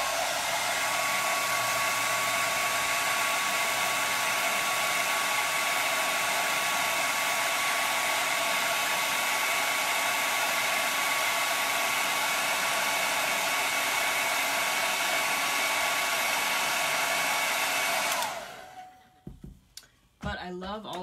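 A hair dryer blows steadily and loudly for about eighteen seconds to dry a painted letter on a black canvas, then shuts off abruptly, leaving a few faint clicks.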